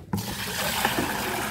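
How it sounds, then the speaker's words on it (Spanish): Water drawn from a tap at a cemetery to water a niche on the Day of the Saints, a steady splashing fill that starts abruptly and runs continuously nearby, without speech. "Vamos a sacar la agüita para regar el nicho."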